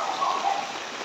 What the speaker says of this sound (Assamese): বৰষুণটো কালি ৰাতিৰ পৰাই দি আছে এতিয়ালৈকে